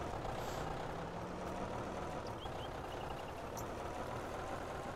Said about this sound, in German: Jetzt können wir unseren Truck eben mal auf der Karte hier außen lang da runterfahren.